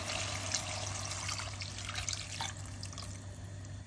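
Water is poured into a pan of browning chicken gizzards and liver, a steady trickling stream over a low kitchen hum with no talking.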